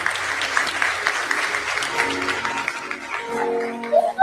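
Recorded applause from a church audience, mostly women, a moderate clapping wash under a noisy, slightly muffled playback, with tonal sounds and a few louder bursts near the end.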